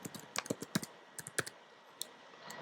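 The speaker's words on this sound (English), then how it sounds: "let me just type in my new password" Fingers type a password on a computer keyboard, producing a quiet run of sharp, irregular key clicks in small clusters with short pauses, close up and with no talking.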